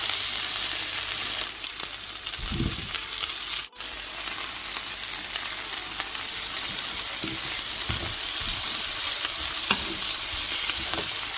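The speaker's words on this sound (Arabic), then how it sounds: "هنا غير كمل نطيب هذه الخضره سوطي" Vegetables with tomatoes, seasoned with black pepper and salt, sautéing in a pan: a steady, even sizzle with occasional soft stirring knocks, close and continuous for several seconds and without speech.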